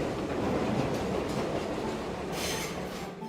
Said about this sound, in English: Here comes the first train of the day.